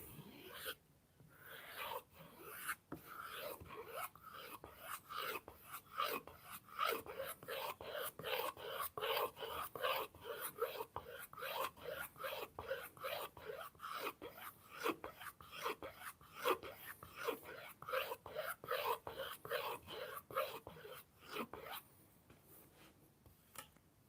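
A Japanese knife is drawn back and forth across a whetstone in a long series of quick, regular rasping strokes, close and fairly quiet, with no talking.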